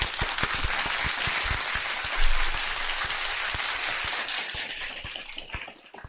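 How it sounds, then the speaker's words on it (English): Steady applause from a studio or live audience fills the stretch, dense and even, with clapping holding at a constant level until it thins slightly at the end. "A round of applause."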